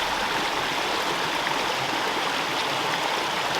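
A brook in the woods flows with a steady, continuous rushing and gurgling wash of water, close by and unchanging, with no voices.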